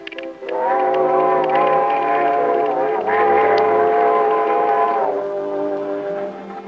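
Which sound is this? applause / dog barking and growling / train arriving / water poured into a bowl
train arriving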